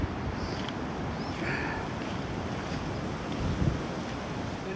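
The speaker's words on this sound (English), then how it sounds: "Still really windy." Strong storm wind during Storm Ciara at a campsite, a steady broadband rush buffeting the microphone, with a brief louder gust near the end and no talking.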